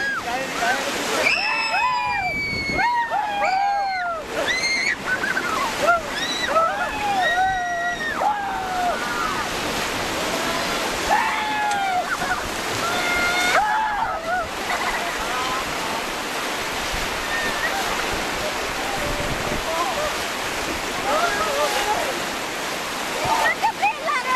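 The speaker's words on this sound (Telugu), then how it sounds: "సో వాటర్ ఫ్లో అనేది ఎక్కువగా ఉండడం వల్ల పడవని అటు ఇటు ఊపేస్తున్నారనమాట." Fast, turbulent river rapids rush and splash loudly throughout during river rafting in Kullu Manali, rocking the raft, while several people shout and call out over it.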